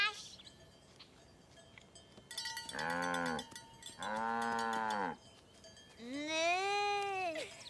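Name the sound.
cows mooing, cartoon farm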